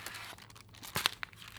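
A paper plate flipped over on a craft table gives a few quick crinkles and papery crackles, close and short, ending in a sharper rustle.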